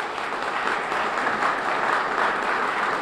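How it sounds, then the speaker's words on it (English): An audience at a police department's annual community report gives sustained, steady applause, a dense even wash of many hands clapping for the full stretch with no speech over it. "let's recognize their valor with a round of applause"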